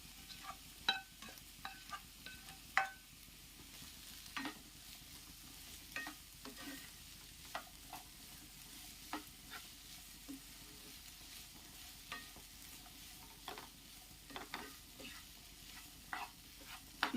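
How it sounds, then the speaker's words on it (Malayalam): A spoon stirs a Chinese potato (koorkka) stir fry in a pan, with a soft steady sizzle and frequent scraping clicks of the spoon in an irregular rhythm, close and fairly quiet. "ഇട്ട് കൊടുത്ത ശേഷം നല്ലതുപോലെ ഇളക്കിയിട്ട് അടച്ചു വെച്ച് കൊടുക്കാമേ"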